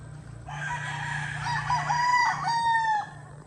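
A rooster crows once in a long, clear call out in the open countryside among trees and hills, fairly close and loud, with no talk over it.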